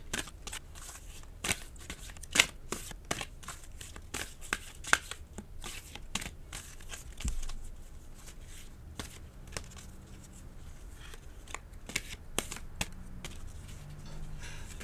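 Tarot cards being shuffled by hand, slightly sticky in cold, humid weather, giving a close, irregular series of sharp flicks and riffling snaps with a soft room tone and no talking.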